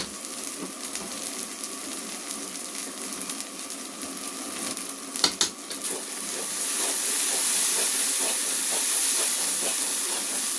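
Chili powder sizzles and hisses in hot oil in a pan, a steady close frying sound that swells a little louder toward the end, with one brief clatter midway.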